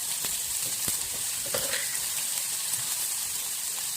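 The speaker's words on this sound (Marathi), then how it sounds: "कांदा छान लालसर भाजून घेऊया, हिंग घालूया" Chopped onion fries with asafoetida in a pan, a loud, continuous close-up sizzle with a few soft clicks of stirring throughout.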